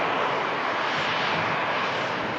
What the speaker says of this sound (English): Virgin Atlantic, Airbus A330-300. Carrying out flight Victor Sierra 109 to Atlanta